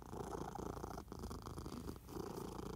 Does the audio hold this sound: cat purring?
yes